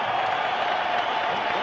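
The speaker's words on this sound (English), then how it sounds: "how about a round of applause for these 2 heavyweights in the ring here tonight" Crowd applause at ringside for two heavyweights, George Foreman and Alex Stewart, after their fight, a dense steady wash of clapping and crowd noise with a faint tone running beneath it.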